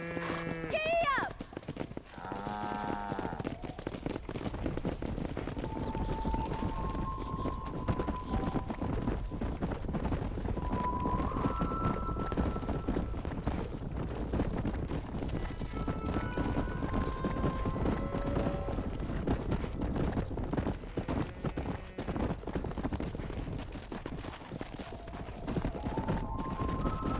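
A horse gallops in the Red Dead Redemption video game, with rapid rhythmic hoofbeats running continuously beneath game music and a brief whinny near the start, while a person talks over it throughout.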